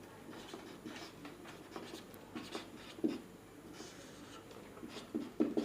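A pen writes on paper during a maths lesson, giving soft scratchy strokes in short irregular bursts with small taps, close and quiet.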